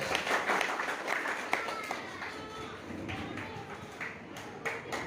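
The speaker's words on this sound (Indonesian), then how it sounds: "tepuk tangan bagi Tuhan Yesus" A congregation at a Christmas church service claps hands, an uneven spell of clapping, fairly soft and somewhat distant, with scattered taps and faint voices beneath.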